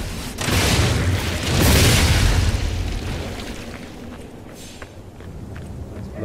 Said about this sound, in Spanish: Explota.